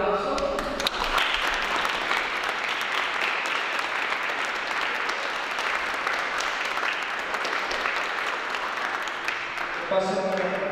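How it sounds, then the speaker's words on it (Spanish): Loud, sustained applause from a crowd at a quinceañera celebration in La Soledad, Ocampo, Tamaulipas, filling the space for about ten seconds, with a voice speaking briefly at the start and again at the end. "le den otro fuerte aplauso"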